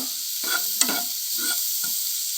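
Spice mixture with turmeric, red chili and black masala frying in a pan under a constant sizzle, with several scraping stirs of a spoon and one sharp clink against the pan.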